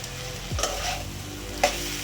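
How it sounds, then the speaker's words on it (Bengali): Water spinach frying and being stirred in a pan, a steady close sizzle with a couple of brief scraping stirs of the spatula over about two seconds. "আমাদের শাক ভাজা হয়ে গেছে"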